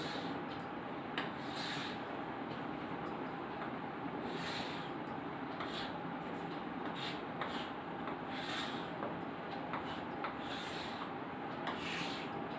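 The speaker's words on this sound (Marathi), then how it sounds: "तुम्ही या रेषा पट्टीच्या साहाय्याने मारायच्या आहे" A pen or pencil drawn along a ruler on paper, making a steady close scratchy rubbing with repeated stroke accents throughout, no talk.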